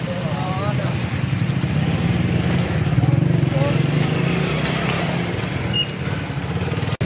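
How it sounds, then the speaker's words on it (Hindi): A motorcycle passes along a city street in Rawalpindi on a protest day, its engine droning loudly and close with a steady rumble that holds for several seconds before cutting off. "और यहाँ पर ये देखिए एक और मोटरसाइकिल आ रहा है"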